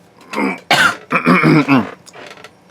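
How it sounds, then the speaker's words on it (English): A person clears their throat several times in rough, raspy bursts, close and loud, with a short cough-like hack among them. "So I just had to clear my throat again."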